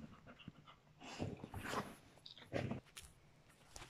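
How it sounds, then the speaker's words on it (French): A small dog panting restlessly in summer heat: quick, rough breaths come in uneven bursts close by, with soft whimpers and shuffling noises, and no talking. "un petit embêtement avec mon petit chien Leroy qui trouve qu'il fait lui trop chaud"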